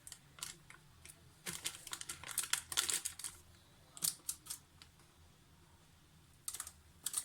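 A knife cuts cooled cashew fudge (kaju katli) into diamond shapes, giving faint, quick clicking taps and light crinkles in irregular bursts, close and quiet with no talk.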